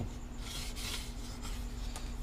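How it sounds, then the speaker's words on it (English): Close, steady rasping of coarse sandpaper on a sanding block shaping wood to a knife edge on an Aeronca aircraft wing, continuous with a few brief harsher strokes, over a faint low hum. "down to a knife edge here with our sanding block and coarse sandpaper"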